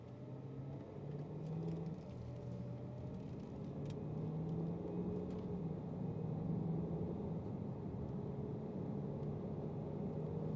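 A 2014 black Land Rover Range Rover gathers speed on a road, heard from inside as a low steady engine rumble and road drone that swells slightly as it accelerates; no talking.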